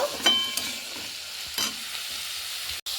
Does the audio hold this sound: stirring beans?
yes